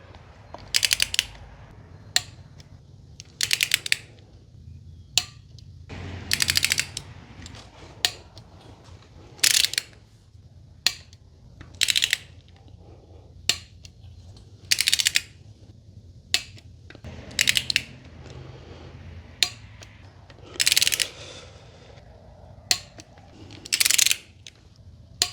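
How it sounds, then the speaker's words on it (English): An older-style torque wrench tightens ARP cylinder head studs on an engine for a Honda CB7, giving sharp ratcheting clicks in short bursts spread across the clip with quiet handling sounds between, up close. "I'm using kind of an older torque wrench design."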